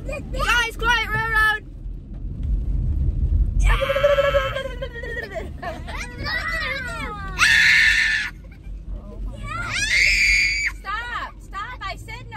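Children shriek and scream in loud, high bursts over a rumbling car interior, with several screams overlapping and brief pauses between them.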